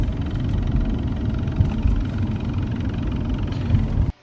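A low, steady rumble from a Hyundai Genesis G80 coasting down below about 50 mph, heard from inside the cabin as a continuous droning road and drivetrain noise that ends abruptly.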